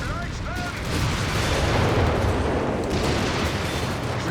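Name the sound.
Sturmpanzer firing, from the video game Company of Heroes 3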